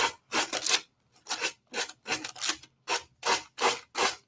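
A slightly worn sanding block rasps back and forth along the edge of a wooden box in a decoupage project, giving about ten short, even rubbing strokes in a steady rhythm, close up with no talk.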